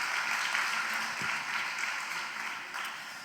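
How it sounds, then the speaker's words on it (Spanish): A church congregation applauding together, a steady wash of many hands clapping at a moderate distance, sustained throughout without pause. "Dale un aplauso al Señor."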